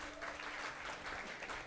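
Applause from a church congregation during a Hindi-language service, a steady wash of many hands clapping at moderate distance, continuous for the whole moment with no talk over it.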